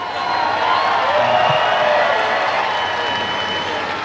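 A county fair crowd at a pro tractor pull cheers and claps for a puller whose engine block has just blown, a broad, sustained roar of applause and cheering heard from within the stands.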